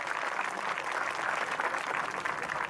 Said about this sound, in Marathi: त्यांना हात टाळ्या वाजवून सांगूया की आम्ही तुमच्या पाठीशी उभे आहोत